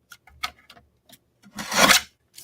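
Scissors trimming paper card stock for a handmade card: a few light snips and scrapes, then a louder, longer rasping cut near the end, close and alone.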